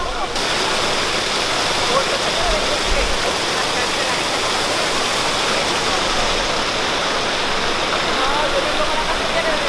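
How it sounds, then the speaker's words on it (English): Water rushing and splashing in the Trevi Fountain in Rome, a loud continuous roar of falling water heard close by, with crowd chatter faintly blended in. "The fountain? Is that what you said? Fontana di Trevi."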